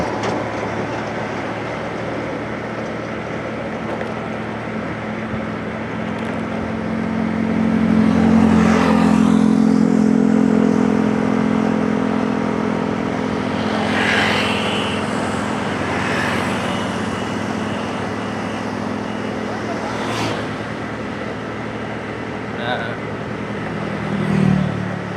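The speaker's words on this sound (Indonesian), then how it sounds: "ini ada dua mobil truk ini lewat" Two trucks pass on a road during a motorcycle ride, a low engine rumble swelling in the middle and fading again over steady wind and road noise, with a brief rise near the end.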